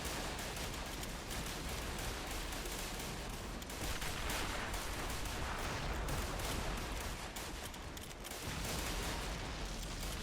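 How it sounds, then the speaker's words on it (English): Mortar blasts and bullet impacts crash almost without pause on a World War I trench battlefield, a dense, loud barrage of booms and crackling gunfire filling the whole stretch. "We've got a lot of mortars hitting the center side here, or the left flank"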